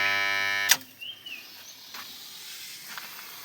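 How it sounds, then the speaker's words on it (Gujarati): Electric motor on a farm humming steadily with a loud tonal whine, then cut off abruptly, leaving faint outdoor quiet with a few soft distant calls. "હાલો આપણે કંઈક મોટર બંધ કરી નાખીએ"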